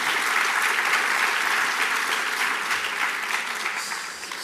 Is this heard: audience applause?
yes